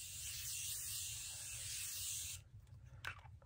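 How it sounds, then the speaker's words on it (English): Spray bottle misting the face, a steady close hiss lasting a couple of seconds before cutting off, followed by faint handling noises. "I'm going to spray my face."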